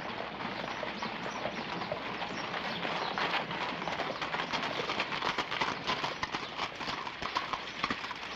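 Horse hooves clip-clop steadily and close at an old Western frontier town, a continuous rhythmic clatter of several horses over the whole stretch with faint background ambience.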